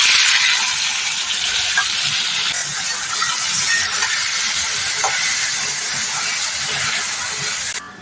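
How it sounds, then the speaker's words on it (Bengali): Potatoes frying for aloo bhaja give a steady, close sizzle and hiss in a pan, continuous for the whole stretch with small crackles and no voices. "আমি আলু ভাজাটা করে নেবো প্রথমে।"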